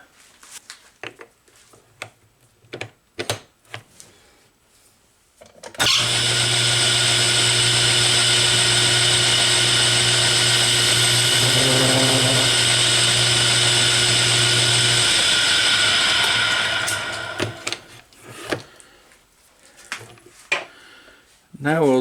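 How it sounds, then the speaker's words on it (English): Metal drawbar being bevelled on a machine tool: a steady, loud whirring cut lasting about ten seconds, with a shifting tone midway, framed by brief clanks and handling noises before and after. "I'll take and cut a bevel on it."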